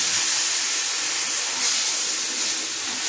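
Vegetable broth hitting a hot pan in a Bengali home kitchen, giving a steady, close, loud sizzle and steamy hiss that holds without a break, with no talking.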